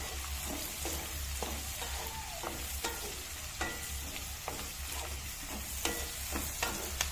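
Chilli chicken with chopped green chillies is stir-fried in a pan, a soft sizzle broken by repeated scraping strokes of a spoon at an uneven rhythm, close and fairly quiet.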